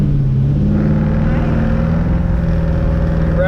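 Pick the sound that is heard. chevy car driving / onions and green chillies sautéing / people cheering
chevy car driving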